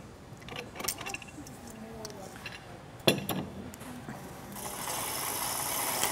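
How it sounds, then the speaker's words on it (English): Nut wrench snugging a nut on the mount of a TECNA portable spot welding gun, giving a few close metallic ratchet clicks and clanks in short bursts, with one sharper knock midway. "Take an appropriate sized nut wrench and just snug the nut so the gun won't move on you."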